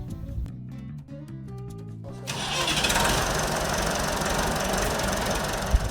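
A Massey Ferguson 165 tractor in Perry, Iowa: a diesel engine turns over with rhythmic knocking, then catches and settles into a steady, loud, rough running clatter close to the microphone.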